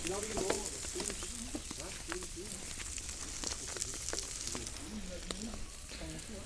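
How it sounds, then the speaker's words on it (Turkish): Steady sizzling crackle of bread toasting over a hot charcoal grill, with scattered pops and faint voices in the background. "Bu tarafta ekmeklerimizi kızartmaya başlayalım."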